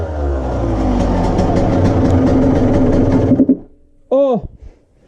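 Renovated Honda 125 CR two-stroke motorcycle engine running loud and near, a rough steady drone that cuts out abruptly, followed by a voice exclaiming.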